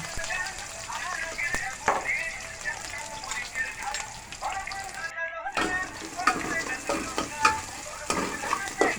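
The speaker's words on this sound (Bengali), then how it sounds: "তেল গরম আসলে কালো জিরা দিয়ে দিব এরপর পেঁয়াজ রসুন কাঁচামরিচ দিয়ে দেবো" Black cumin seeds, onion, garlic and green chili frying in hot oil, a continuous crackling sizzle with scattered sharper pops and scraping stirs, while a person talks over the cooking.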